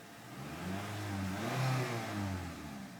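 A 2014 Honda Accord Touring's four-cylinder engine revs up and back down once, a smooth, moderately loud rise and fall in pitch heard up close with no talking.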